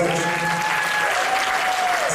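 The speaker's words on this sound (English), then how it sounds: "give yourselves a round of applause for being such a beautiful and receptive audience" Steady, dense applause from the audience at a concert at Spartanburg Memorial Auditorium, broad and continuous throughout, with a sustained tonal note and a faint voice riding over the clapping.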